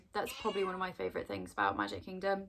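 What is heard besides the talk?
pet cat meowing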